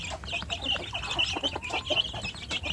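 Kampung chickens cluck in a rapid, irregular run of short calls, close and fairly soft, with no talk over them.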